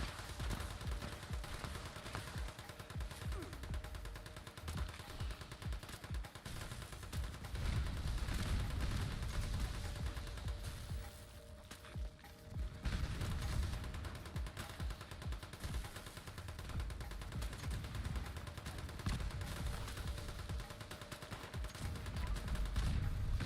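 Pistol fire against the Strangler Queen in Fallout 76 comes as dense, continuous rapid gunshots with steady loudness throughout, dipping briefly midway under layered game noise.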